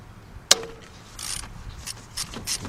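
A ratchet on a 4-inch extension breaks a bolt loose on a Mercedes during water pump replacement: one sharp metallic crack, then faint clicking and rustling of the tool, close by and without talk.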